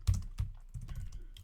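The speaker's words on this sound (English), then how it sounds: "and then start typing that out here" Close computer keyboard typing, a few quick keystrokes in short clusters with brief pauses between them and no voices.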